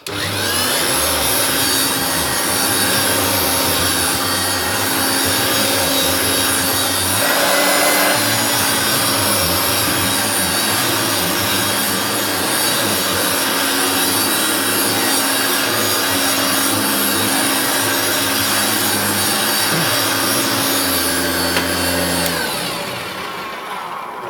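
A vintage Hoover Turbopower upright vacuum runs close and loud with a steady motor whine and a faint metallic or plastic rattle, its pitch shifting slightly a couple of times before shutting off at the end.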